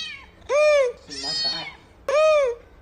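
A cat meows twice, close and loud, each cry a rising-then-falling wail, with a brief burst of other vocal noise between them.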